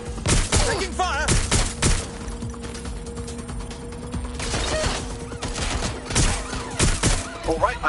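Bursts of gunfire in the video game Watch Dogs Legion, with repeated sharp shots and rapid volleys across the whole stretch, mixed with mechanical clicks and game effects.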